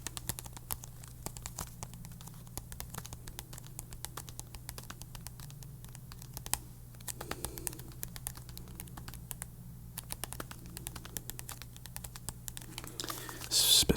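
Regular playing cards shuffled and handled up close, with dense, rapid flicking and tapping clicks running steadily throughout, soft and crisp against a low constant hum.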